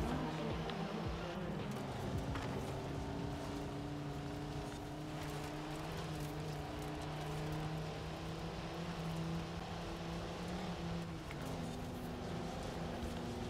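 Car from Forza Horizon 4 driving slowly over dirt, a steady droning engine hum with sustained low tones that hold throughout with no voices.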